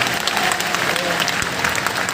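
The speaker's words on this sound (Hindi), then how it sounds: "आप सब जोरदार ताली बजा करके आपका स्वागत करें" A dense, continuous burst of audience applause welcomes a guest at a Hanuman Janmotsav religious gathering at Bageshwar Dham, with loud, even clapping from a large crowd throughout.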